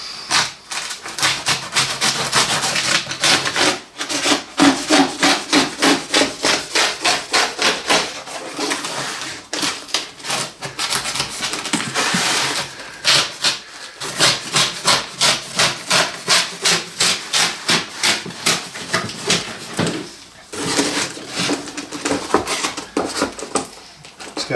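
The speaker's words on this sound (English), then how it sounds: "I wonder how good the cork comes up" Cork roadbed tearing up from a model railway layout during demolition, a long run of rapid ripping and crackling bursts that pause briefly and restart, close and fairly loud, with no talk over it.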